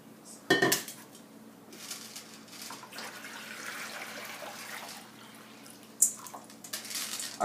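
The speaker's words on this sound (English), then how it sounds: "the only step for this experiment is dumping the water into the bowl" Water dumped from a container into a bowl splashes and pours with clattering dish sounds, a sharp clank at the start and another near the end, close and moderately loud with no talk.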